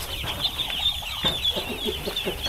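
Ducks on a duck farm clucking and quacking in a dense, continuous chorus at close range, with a steady mid-pitched din and no talking over it.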